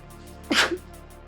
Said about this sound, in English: Hang on, I'm gonna sneeze.